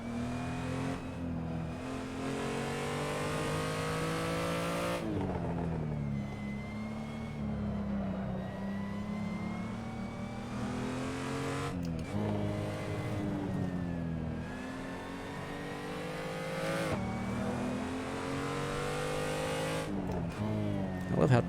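A BMW M235i engine in a racing sim at Ahvenisto circuit, revving hard and climbing through the gears in repeated rising sweeps, with upshifts every few seconds. The engine drones loud and steady throughout, with a player talking over it.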